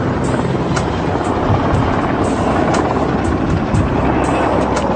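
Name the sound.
Black Hawk helicopter flying overhead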